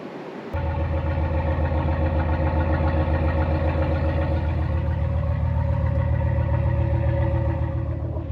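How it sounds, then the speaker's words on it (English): A Ram 1500 pickup truck engine with stock exhaust starts up abruptly and settles into a deep, steady idle, a low rumbling throb that continues evenly without any talking. "the stock exhaust on these Ram 1500s, you know, they sound good"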